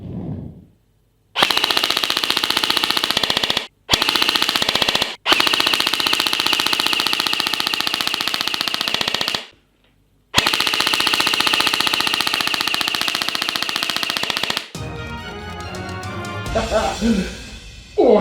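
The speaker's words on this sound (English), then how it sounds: "Let's destroy it now on full auto" A CSI S.T.A.R. XR-5 airsoft gun fires on full auto in several long, rapid buzzing bursts separated by short pauses, close and loud, then falls quiet.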